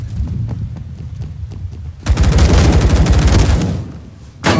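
Sniper and other gunfire in Roblox Phantom Forces: a run of sharp shots at a steady pace, then a loud, dense burst of rapid fire that fades, followed by one more loud blast at the end.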